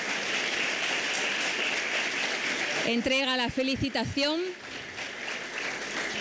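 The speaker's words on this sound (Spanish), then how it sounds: "Un aplauso para ella." Audience applause at an award ceremony, steady broad clapping throughout with someone speaking briefly over it in the middle.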